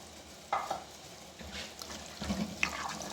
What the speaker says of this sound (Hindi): अब इसको भूनेंगे कि टमाटर का कच्चापन बिल्कुल ख़त्म हो जाए